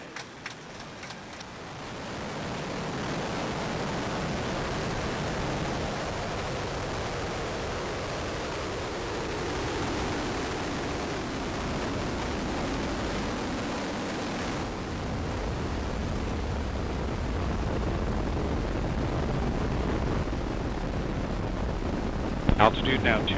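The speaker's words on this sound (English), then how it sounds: "Ignition and liftoff of Ares 1X." The Ares I-X rocket ignites and lifts off in a deep, sustained roar that swells and holds for many seconds, heard from a distance as a broad rumbling wash.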